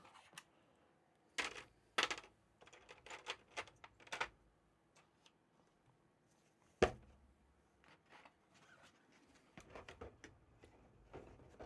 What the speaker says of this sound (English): so we'll take out these keycaps